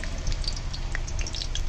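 Garlic sizzling in hot oil in a wok, close crackling pops scattered over a short, steady fry with no talk.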